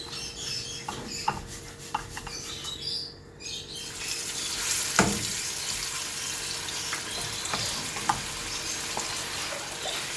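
Shark fish frying in a pan, a steady soft sizzle with occasional pops and clicks, a brief dip midway, no talking.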